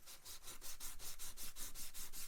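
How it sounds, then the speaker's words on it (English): Rapid, rhythmic back-and-forth scratchy strokes of sanding on a small plastic model truck part, close up and steady, with no talking. "we'll just give that a bit of a sanding"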